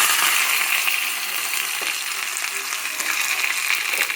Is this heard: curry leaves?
yes